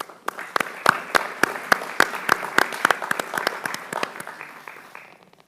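Sparse audience applause at a literary reading event, a small group clapping with distinct, separate sharp claps that thin out and fade away near the end.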